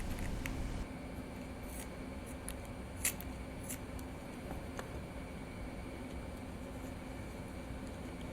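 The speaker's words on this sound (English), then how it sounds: "Using scissors, cut the balloon as shown here." Scissors snip through a latex punch ball balloon, a few quiet cuts and rubbing sounds over a steady low room hum, with no talking.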